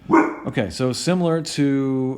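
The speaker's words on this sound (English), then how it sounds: "sorry, that's my dog." A pet dog barks and yips indoors in short, loud bursts, mixed in with a person's speech that overlaps the barking.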